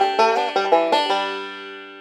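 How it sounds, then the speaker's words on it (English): A banjo plays the classic G lick, a quick run of about six bright plucked notes that ends on a ringing chord fading out, close and loud with no talking. "what banjo players call the G lick, which sounds like this."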